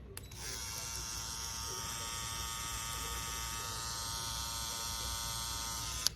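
A BabylissPRO cordless hair clipper runs on a full battery charge, giving a steady, close, high-pitched electric buzz and whine that holds constant for several seconds with no talking.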